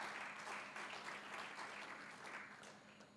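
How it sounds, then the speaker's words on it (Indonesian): Applause from a congregation during a Sunday church service, a steady wash of many hands clapping that fills the room and fades slightly toward the end, with no voices over it. "Tepuk tangan lagi bagi Tuhan Yesus."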